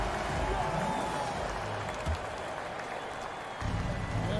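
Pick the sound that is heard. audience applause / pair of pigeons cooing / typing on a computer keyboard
audience applause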